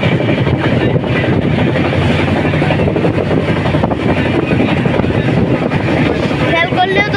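The Shalimar Puri Dhauli Express runs at speed, heard from inside a second sitting coach as a loud, continuous rumbling roar of wheels and rushing air that never lets up.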